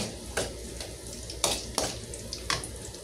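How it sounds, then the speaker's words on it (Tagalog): Garlic frying in plenty of oil in a pan while cooking bitter gourd with egg, a steady sizzle broken by a few sharp stirring clinks and scrapes, close and alone. "papupulahin muna po natin ang bawang"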